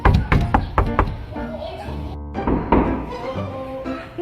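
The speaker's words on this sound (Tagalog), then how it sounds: "May kumakatok na naman." Someone raps on the front door of a house with several sharp knocks in quick succession. A muffled voice talks faintly underneath, and a scuffle of household noise follows.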